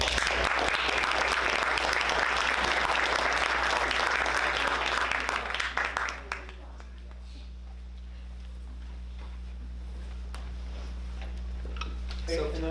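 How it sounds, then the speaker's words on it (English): Loud, dense applause from a crowd fills the first six seconds, then fades out, leaving a quiet room hum with faint scattered sounds. "Another round of applause."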